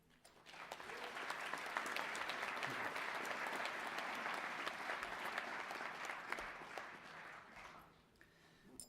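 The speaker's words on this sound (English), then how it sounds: "Can we show them your appreciation with a round of applause?" A large graduation ceremony audience applauds, a dense, sustained round of clapping that swells quickly and holds steady for several seconds before tapering off, heard from a distance in a big hall.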